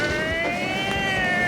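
A siren sound effect plays as a round in a sound-guessing game show, a steady wailing tone with layered pitches that holds for under two seconds with no talk over it.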